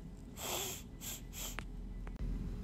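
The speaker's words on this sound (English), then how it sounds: "Can everybody inhale and sniff?" Three quick nasal sniffs in a row, fairly close and breathy, followed by a couple of fainter short intakes.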